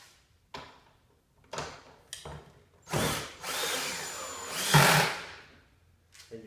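A power drill drives four identical screws while a 14-inch Earthwise snow thrower is assembled, mounting the handle section. Several short whirring bursts come close up and alone, separated by pauses, the last two longer and louder.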